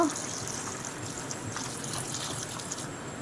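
Flour dough soaked in water being washed and squeezed by hand in a bowl, continuous soft sloshing and trickling, close and moderate in level.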